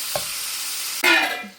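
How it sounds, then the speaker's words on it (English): Ground beef cooking in a skillet, a soft steady sizzle with a sharp louder burst of frying and stirring partway through. "ground beef in the skillet"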